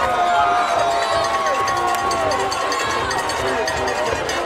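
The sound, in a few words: football crowd cheering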